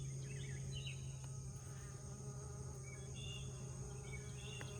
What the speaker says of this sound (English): The bees are really, really doing their thing today.